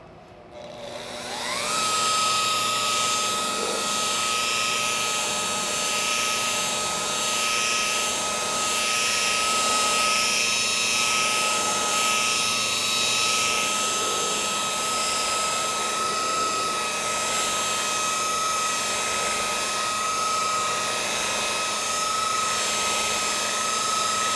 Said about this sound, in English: apply the pad to the compound, rub it in a little bit, and then buff.